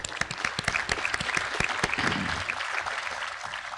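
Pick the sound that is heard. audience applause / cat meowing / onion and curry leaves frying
audience applause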